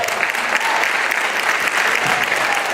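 Steady, dense applause from an audience at a Democratic primary candidate forum for New York's District 21, filling the whole stretch evenly without pauses or voices.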